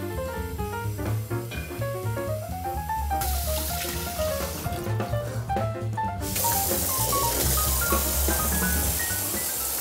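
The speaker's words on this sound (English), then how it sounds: "So what we're gonna do is to fill up the cooler" Hot tap water runs steadily into a cooler, a continuous close gush and splash that grows brighter and louder partway through.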